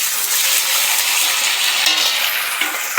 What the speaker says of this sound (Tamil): இப்போ சின்ன வெங்காயம் போட்டு போகிறேன்.